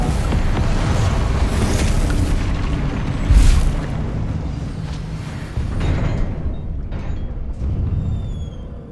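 A Confringo blasting spell from Hogwarts Legacy gives a loud, rumbling explosive boom with a sharp burst near the middle. Dense roaring noise continues and fades toward the end.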